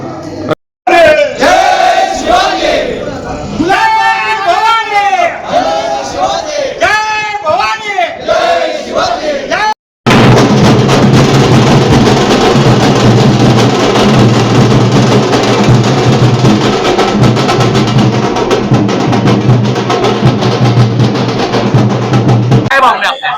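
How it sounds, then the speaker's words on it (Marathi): Party workers celebrate newly elected corporators with loud chanting and shouted slogans that give way to a dense, continuous roar of crowd cheering. "यावेळी नवनिर्वाचित नगरसेवकांच्या कार्यकर्त्यांनी एकच जल्लोष केला।"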